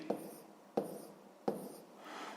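Three quick scratchy strokes, evenly spaced, come from numbers being written by hand during a sixth-grade maths exercise, close and quiet, with no speech.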